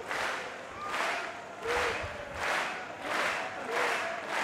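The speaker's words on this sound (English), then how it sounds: "Winter trying to get the crowd clapping." A crowd at a beach volleyball world championship match claps in slow, rhythmic waves, each swell of applause rising and fading about once per second, broad and somewhat distant.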